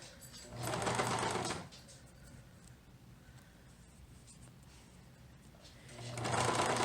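A serger overlocker stitches knit fabric while its knife trims the excess edge, two loud rapid whirring bursts at the start and end with a quiet pause between.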